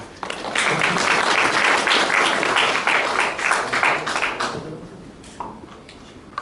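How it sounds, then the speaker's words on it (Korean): An audience claps warmly at a 2016 Sony new-product roadshow in Daegu, the applause dense and sustained for several seconds before thinning out to scattered claps. "다시 한번 큰 박수 부탁드립니다."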